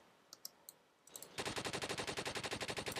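Game gunfire in the Roblox shooter Neighborhood War: a few sharp clicks and single shots, then a loud, rapid automatic burst of evenly spaced rounds, close and with no talking.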